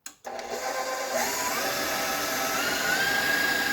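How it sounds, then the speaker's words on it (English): Electric mixer beating an almond tart filling in a bowl: a steady, close whirring motor hum that starts after a brief stop and runs continuously at even loudness, with a faint rising whine. "We'll give that one last good mix."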